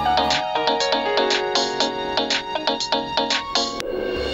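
A phone ringtone plays a loud, bright electronic melody of quick repeated notes, close and clear, then cuts off abruptly near the end.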